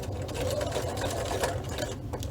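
A sewing machine runs a steady, fast stitching burst along a seam in a table project, close and continuous throughout.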